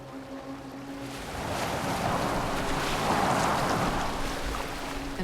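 A boat glides across open water in Assassin's Creed Valhalla, with a steady rush of waves against the hull and breezy wind noise that swells in the middle and eases toward the end.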